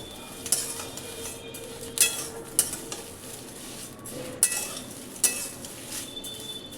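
Whole spices for homemade garam masala dry-roasting in a pan, a spoon stirring and scraping with scattered metallic clinks at irregular intervals over a low, faint background.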